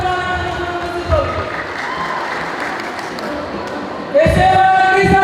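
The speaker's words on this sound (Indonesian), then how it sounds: "Sekali lagi berikan tepuk tangan bagi SMA Negeri 1 Gunung Sitoli." A school audience at a farewell ceremony for high school students applauds steadily, and the clapping swells louder near the end while a voice talks over it.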